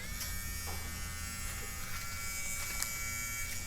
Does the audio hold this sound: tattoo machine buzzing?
yes